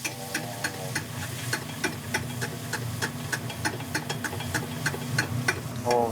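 Butter is spooned over a flank steak as it sizzles in a hot pan, giving a steady close-up fry hiss broken by a regular series of light ticks and clinks from the basting spoon over about six seconds.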